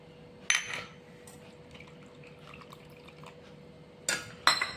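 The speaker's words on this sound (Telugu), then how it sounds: "ఈ బాదం పప్పుల్లో కూడా చల్లటి నీళ్లు వేసి ఊరబెట్టుకోవాలి" Cold water is poured over almonds in a vessel to soak them, with a few short splashing pours and clinks against the container separated by quiet stretches.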